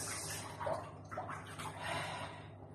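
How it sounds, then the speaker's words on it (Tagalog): Water runs steadily into a bathtub, a soft continuous splashing and trickling with a few gentle surges, fairly quiet and close with no one speaking over it. "Tayong ng tubig. Yan, tubig."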